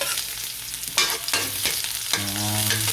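Meat being sautéed in a very hot, smoking pan, a loud, steady sizzle broken by scraping stirs, close and with no talking.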